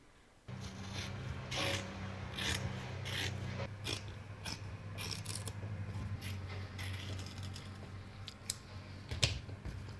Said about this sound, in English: I can then follow around with a pair of scissors and trim all the necessary bits